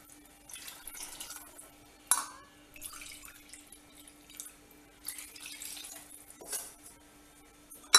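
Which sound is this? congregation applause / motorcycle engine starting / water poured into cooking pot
water poured into cooking pot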